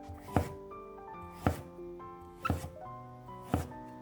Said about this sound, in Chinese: 一根去皮洗净的胡萝卜切成段